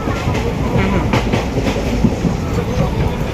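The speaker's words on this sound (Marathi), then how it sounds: "इकडे ट्रेन मध्ये एकदम जोरदार पाऊस सुरू झाला" A passenger train rolls along during heavy rain, its loud steady rumble and rhythmic wheel clatter heard from inside the carriage, with faint voices underneath.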